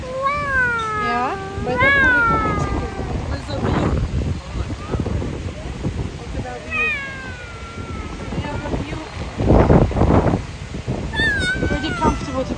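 A small cat in Maui meows repeatedly in rising, drawn-out cries, loud and close, with wind buffeting the microphone and people talking nearby.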